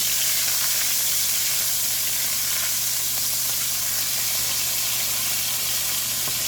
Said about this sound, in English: We're going to let that butter melt on up.